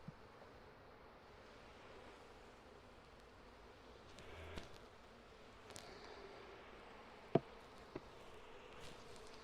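A soft, continuous hum of honeybees drifts around a backyard hive being requeened, faint and steady, broken by a few sharp clicks and knocks.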